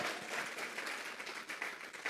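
A church congregation at a Sunday service claps together as an offering of applause, a steady dense patter of many hands filling the room throughout without a break.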